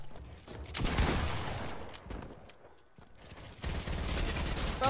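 Dense video-game gunfire rattles almost continuously, with a brief lull in the middle before the volley picks up again, loud and unbroken by talk.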